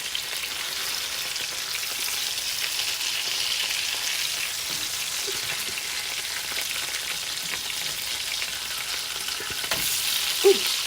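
Pork chops fry in garlic wine in a pan, giving a loud, steady, close hiss with dense crackle and spatter throughout and a brief clink near the end, with no talking.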